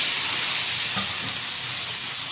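Pieces of yam and ordinary potato sizzle in hot oil with black cumin, a steady loud frying hiss holding evenly throughout with no talk.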